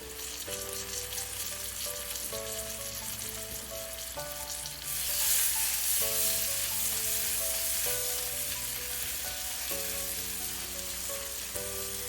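Garlic and ginger paste hitting hot oil for Nepali kadhi pakora, a steady sizzle that swells louder midway, heard beneath gentle background music.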